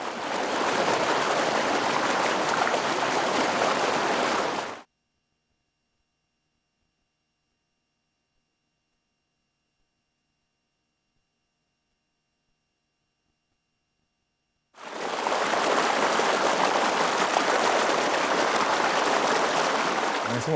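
Irrigation water from the Río Claro intake rushes steadily into a farm's channels and out to the paddy lots, a loud broadband flow in two bursts separated by about ten seconds of silence.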